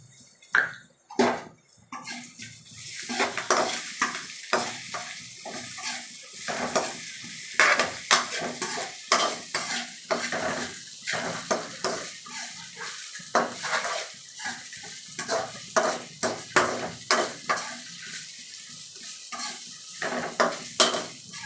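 Finely chopped potato and beetroot frying in a pan, a utensil stirring and scraping in quick irregular strokes over a continuous sizzle, close and busy for the whole stretch with no voices.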